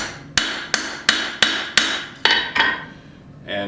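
A hammer forges an integral bolster knife, striking hot steel about seven times in a steady rhythm of sharp, close, ringing blows, then falls silent before a brief softer sound at the end.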